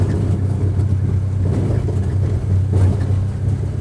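A John Deere Gator 835M utility vehicle pushes snow against an old snowbank in a yard, its engine droning steadily and loudly up close as the wheels spin, with no talk over it.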